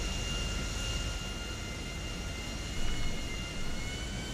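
An airplane flies in GTA V, a steady whining engine drone with a faint high tone running underneath. It stays even and moderately quiet, with slight swells near the end and no speech.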